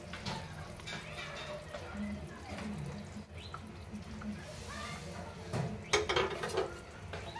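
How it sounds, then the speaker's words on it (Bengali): Pieces of rohu fish going one by one into boiling gravy in a home kitchen: quiet splashes and bubbling with a few soft clinks of pots and utensils. "চলো এক এক করে মাছগুলোকে এর মধ্যে ছেড়ে দিই"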